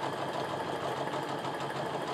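A sewing machine stitches through quilting fabric with a steady, continuous mechanical hum and rapid rhythmic needle vibration, close and even throughout.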